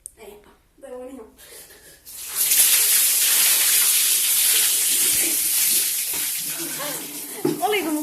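Ice water is poured over a person in an ice bucket challenge, a loud, sustained splashing rush lasting several seconds, with voices speaking before and reacting after.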